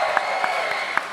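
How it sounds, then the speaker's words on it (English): Audience applause at a Yakuza/Like a Dragon convention panel at Anime Expo 2023, heard as a soft, distant wash of clapping with a few sharper claps standing out. "Can we just give this man another round of applause?"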